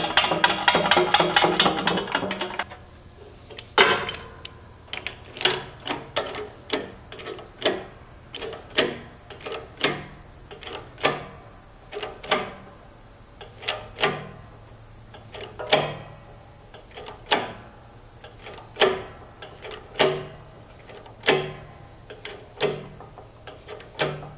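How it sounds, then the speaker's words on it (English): A hydraulic press pumped against a bolt to bend it, after a brief burst of noise at the start: a long series of sharp, regular mechanical clicks and knocks, each about a second apart, close and fairly loud, with no talking. "I'm going to put this over in the hydraulic press, and we will put some pressure on this."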